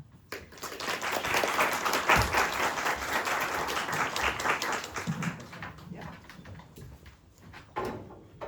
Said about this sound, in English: give a nice round of applause for our first speaker.